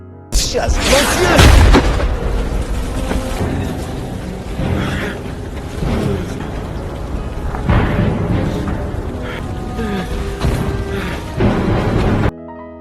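A heavy World War II explosion booms out, followed by a continuous loud roar and rumble with scattered crashes that carry on for several seconds.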